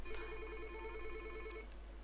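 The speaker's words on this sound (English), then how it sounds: "phone is actually ringing again" A desk phone rings with an incoming call in an office phone-system setup, a faint steady electronic ring tone with a low hum beneath it and no talking.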